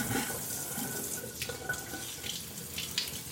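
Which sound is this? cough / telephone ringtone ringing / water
water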